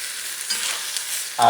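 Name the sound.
stirring spices into chicken stew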